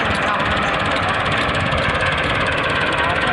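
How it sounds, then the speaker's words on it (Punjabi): A Massey Ferguson MF-375 tractor runs steadily in a Punjab field while working with a 13-tine cultivator, its loud engine drone constant and close, with voices talking over it. "ਦੇਖੋ 375 MF ਟਰੈਕਟਰ ਹੈ"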